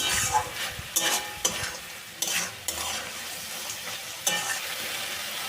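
A spoon scrapes and stirs a potato samosa filling with chopped coriander and fried peanuts in a pan, making several distinct scraping strokes over a soft, continuous sizzle of frying, close and fairly quiet, with no talking.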